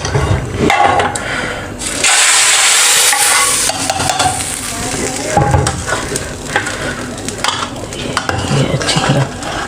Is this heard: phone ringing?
no